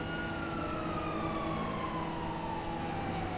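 Police car sirens in a video game wail steadily with a slowly falling tone, heard faintly and continuously over a dense rumbling background, with no talking.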